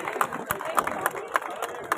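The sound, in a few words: applause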